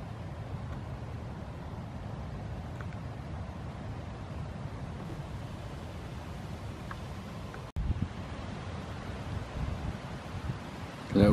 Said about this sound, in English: Little gust.